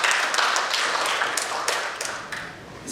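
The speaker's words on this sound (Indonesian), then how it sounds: "boleh berikan tepuk tangan yang luar biasa untuk beliau" An audience at a government statistics office event for the 2026 economic census applauds a speaker, close, fairly loud clapping with a few sharp individual claps, gradually thinning out toward the end.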